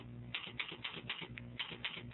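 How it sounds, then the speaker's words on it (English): Computer keyboard typing while writing code in Visual Studio: a quick, steady run of light key clicks, close and fairly quiet, with no voices. "I'll just type in anything here"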